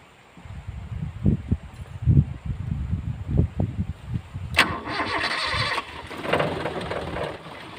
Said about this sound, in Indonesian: Sekarang akan kita coba untuk starter mobil ini.